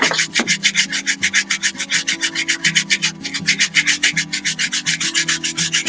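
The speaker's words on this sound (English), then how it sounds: "I'm just going to sand inside the grip with the 150 grit" Steady back-and-forth rasp of 150 grit sandpaper worked by hand inside a wooden rifle grip on an HW95 air rifle, loud and close with an even rhythmic stroke, no talking.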